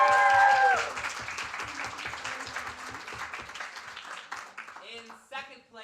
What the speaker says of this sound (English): please give a round of applause for Bethany Blackmer